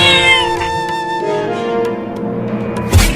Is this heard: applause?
no